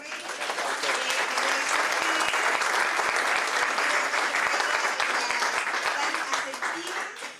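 Steady, full audience applause for a speaker at a higher-education teaching event, many hands clapping evenly throughout before tapering off at the end.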